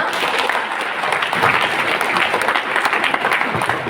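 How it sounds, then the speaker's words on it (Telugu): Dense, steady clapping from an audience at a business presentation, loud and sustained for the whole stretch with no voices on top. "ఇప్పుడు చప్పట్లు కొట్టాలనిపిస్తుంది."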